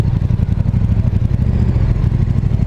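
A KTM 1290 Super Duke GT (2019) motorcycle filtering through a traffic jam, its engine a steady, loud low rumble with a faint clattery edge, continuous throughout with no talking.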